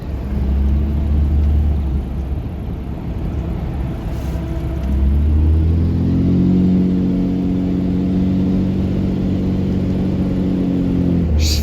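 Dodge Ram Cummins diesel truck driving, a steady deep engine rumble and whir from inside the cab that swells as it accelerates around the middle, with a rising mid-pitched drone that holds to the end.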